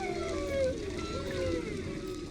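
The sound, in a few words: multiple animals vocalizing in noisy field recording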